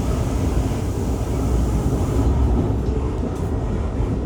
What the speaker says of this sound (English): that was the Coco Tunnel, and we are now on the dedicated section of Brightline track